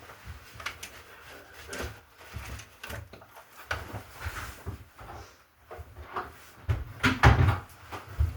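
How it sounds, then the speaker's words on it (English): A door is pushed shut indoors, heard as soft shuffling knocks and rubbing wooden bumps ending in a heavier closing thud near the end, moderately faint. "Sorry, I just had to close the door."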